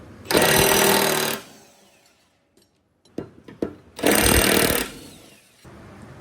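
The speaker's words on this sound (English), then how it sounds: "I'm using a 19mm socket on an impact." An impact wrench fitted with a 19mm socket removing lawn mower deck bolts, firing two loud, rapid hammering bursts separated by a short pause with a few metallic clinks of the socket and bolt between them.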